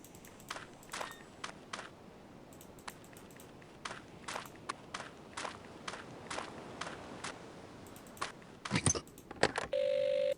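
In the Agatha Christie: Evil Under the Sun adventure game, a run of clicky footsteps leads to a telephone that starts ringing at the very end with a short, steady electronic tone, clear and close.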